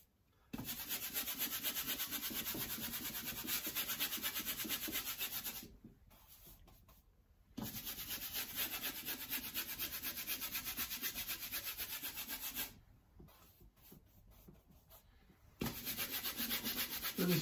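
An old paintbrush rubs paint onto a canvas being prepped for painting, giving a steady close scrubbing rasp in long strokes, broken by two brief pauses.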